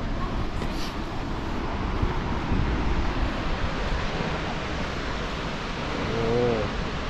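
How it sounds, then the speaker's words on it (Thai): Tad Fane waterfall near Pakse, Laos, a 200-metre drop, pours in a steady broadband rush of falling water that stays constant and fairly distant throughout, with a faint voice briefly near the end. "น้ำตกนี้น้ำตกนี่สูง200เมตรด้วยครับ"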